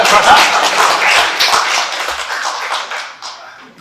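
An audience claps for a group leader at a gathering, with steady, fairly loud clapping from many hands that gradually thins and fades toward the end.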